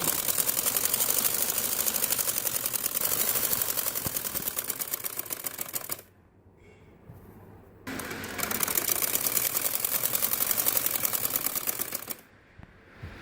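A sewing machine stitches the cuffs of a kudi kat salwar in steady, rapid runs, stopping for about two seconds midway and briefly near the end before starting again, close and alone.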